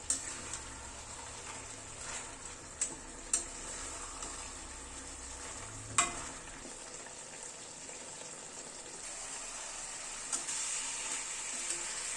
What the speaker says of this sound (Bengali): মেথি শাকটা চিকেনের সাথে কষানো হবে